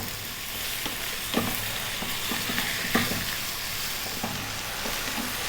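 Lamb pieces on the bone sizzle steadily in a hot pan for a curry, a constant bright frying hiss broken by several light scrapes and knocks as a utensil stirs the meat.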